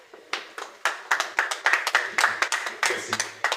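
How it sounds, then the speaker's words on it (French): Stadium crowd clapping together in a slow, rhythmic beat, steady evenly spaced claps that grow a little stronger and continue for a few seconds, with faint voices underneath. "Applaudissez pour vous-même ce stade."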